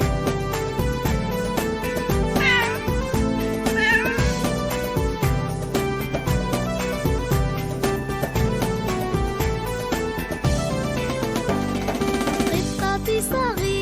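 Cat meows woven through a children's song about a small cat, with steady backing music and melodic instruments playing throughout at a constant loud level.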